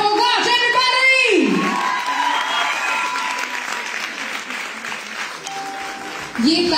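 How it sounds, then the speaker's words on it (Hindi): Loud applause and cheering from a crowd at a Women's Day celebration honouring Indian female wrestler Babita Phogat, with whoops and shouts rising over a host's voice, then tapering into sustained clapping. "दोनों हाथ ऊपर करके जोरदार तालियां हो जाए"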